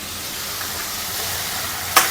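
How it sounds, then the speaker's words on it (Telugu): Sliced cucumbers frying in a pan give a steady, close hiss and sizzle, with a sharp clatter of a utensil near the end. "ఇంక ఇది బాగా ఫ్రై చేసుకోవాలి."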